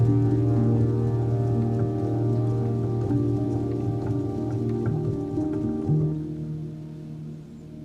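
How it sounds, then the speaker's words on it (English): Rain falls outdoors in a steady, soft patter that holds evenly across the whole stretch under a low hum, with no voices. "Oh yes, surprise, surprise, it's raining again."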